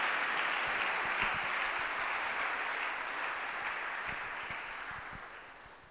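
A church congregation claps and cheers in sustained, dense applause that fills the room for several seconds, then slowly fades as it dies down.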